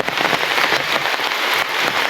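Heavy morning rain pours down hard and close, a dense, even roar of drops drumming on surfaces without pause.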